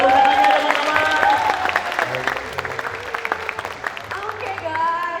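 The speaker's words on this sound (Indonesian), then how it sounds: "Oke, boleh tepuk tangannya teman-teman." An audience at a university product design presentation claps in a dense, scattered burst while a presenter talks over it with a background voice, the applause thinning out midway then swelling slightly again.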